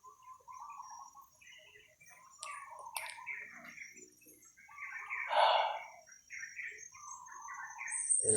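Outdoor birds calling and chirping, with one louder harsh crow call rising partway through, then scattered calls continuing at moderate distance.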